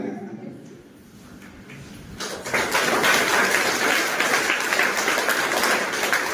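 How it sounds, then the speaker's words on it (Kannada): An audience at a speech event bursts into applause after a quiet moment, and dense clapping carries on loudly and steadily to the end. "ಈಗ ಚಪ್ಪಾಳೆ."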